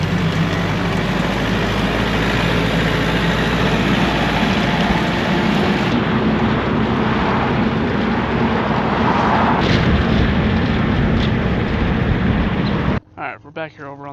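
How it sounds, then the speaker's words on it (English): A farm tractor engine runs loud and steady for a long stretch while clearing a field fence line, then cuts off abruptly near the end. "So I'm going to jump in the tractor and grab some tools and see if we can't get this fence pulled out."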